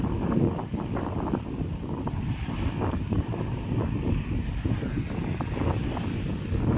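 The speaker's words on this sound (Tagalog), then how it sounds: "May mga alon" Ocean waves wash steadily onto a beach at a Northern Samar resort, a continuous rushing surf roar with wind buffeting the microphone and no voices.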